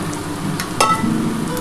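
Water poured into a pan of fried mutton fat, cooking for a thin mutton curry with potatoes, bursts into a brief loud sizzle at mid-clip over a steady background hiss of frying, no talking.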